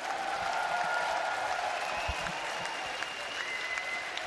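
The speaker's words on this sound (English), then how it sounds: "Give a round of applause for Nerchio!" Steady crowd applause at an esports StarCraft semifinal, a dense continuous clapping wash that holds for several seconds in a large hall.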